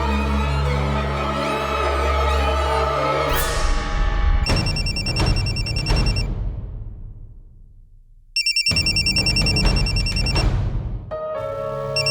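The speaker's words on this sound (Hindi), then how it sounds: "प्रिया, आज आपने फोन किया?" An electronic telephone ringtone sounds in two repeated bursts with a short silent gap between them, clear and loud, with no voices.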